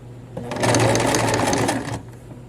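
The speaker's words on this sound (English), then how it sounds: "You can see the needle jumps over to the right to make the points of the triangle, and when it does, it wraps the edges of that fabric." A sewing machine runs a zigzag stitch along a fabric seam while mending a hole. The steady, loud motor-and-needle whir lasts about a second and a half, then stops, with no talking.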